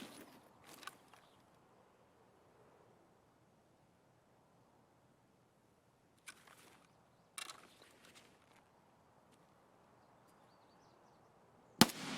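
A grenade blast in the Escape From Tarkov shooter rings out as a sharp burst amid scattered gunfire-like cracks. A few short transients are spaced out over quiet background noise, with a loud crack at the very end.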